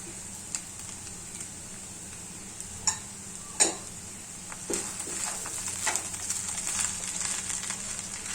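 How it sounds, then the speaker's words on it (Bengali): Chira polao being stirred in a pan with sugar, garam masala and ghee: scattered soft clicks and scrapes of a spoon, then a steadier quiet hiss of stirring in the second half, with no talk. "এখন এটা আমি ভালো করে মিক্স করবো।"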